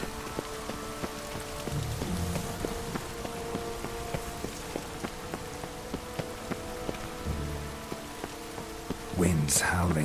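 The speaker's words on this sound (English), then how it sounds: "The rain will ruin it." Rain falls in The Witcher 3 video game, a steady patter on surfaces with light drips and distant rumbles, continuous and moderately loud, with a brief louder clatter near the end.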